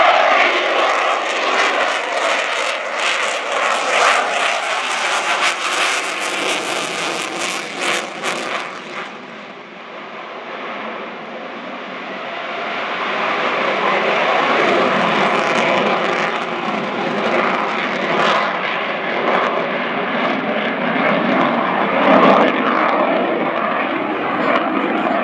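An RAF Eurofighter Typhoon jet in a flying display at RIAT 2013, a loud, continuous jet roar that surges early on, eases briefly, then swells again into a sustained rushing drone.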